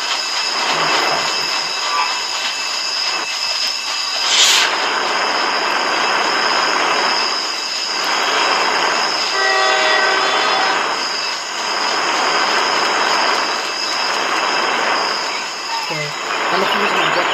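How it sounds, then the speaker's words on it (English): In the Roblox Jailbreak video game, a train passes close by with a long loud rolling rumble, surging in waves, with squealing wheel tones and a sharp screech partway through. "I almost got hit by the train"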